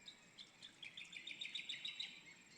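Bird calling in open countryside in La Paz, Tarlac, a string of high, thin chirps repeating in quick bursts against a faint steady background hiss, distant rather than close.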